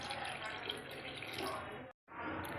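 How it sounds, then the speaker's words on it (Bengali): Water is poured into a pan of potato, pointed gourd and tomato curry. A continuous splashing pour runs nearly steadily, stops briefly, then resumes, fairly faint. "জল ঢেলে দিলাম"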